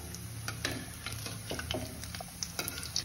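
Bread slices frying in hot ghee over medium heat, a soft continuous sizzle with faint crackles and light scraping, close and steady without any talk.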